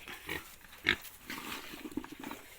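Wild boar on a farm grunt and squeal in short, irregular bursts at close range, with one louder squeal among the softer grunting.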